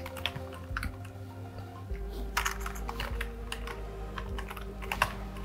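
Typing on a computer keyboard, close and fairly quiet clicking in irregular bursts with brief pauses, over a low steady hum, without talk.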